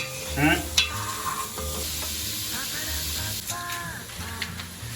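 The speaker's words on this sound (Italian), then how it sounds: "Facciamo soffriggere bene" Soffritto sizzles steadily in a pot for Milanese cassoeula, a constant crackling hiss with occasional clinks and stirring noises.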